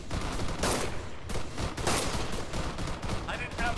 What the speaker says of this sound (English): As many sniper rounds as I'm firing, they have to know I'm here.